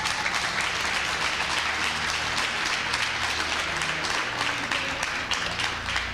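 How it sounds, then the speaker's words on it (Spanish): Applause fills a church as a congregation claps together, a thick, even roar of many hands mixed with faint murmuring underneath, sustained at a constant level for the whole stretch. "Dale un fuerte aplauso al Señor, por favor."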